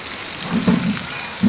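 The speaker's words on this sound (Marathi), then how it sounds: "मस्त असा वादळी पाऊस चालू आहे" Heavy stormy rain pours down in a dense, steady hiss, with a low rumbling undertone like distant thunder.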